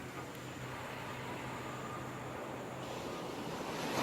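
Steady surf rolling onto a tropical beach with a light breeze, a continuous wash of waves at moderate distance, swelling slightly toward the end, with no voices.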